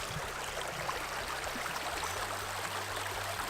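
Water from a small creek runs steadily through a gold-prospecting sluice box, a continuous broadband rushing and gurgling flow with no voices over it.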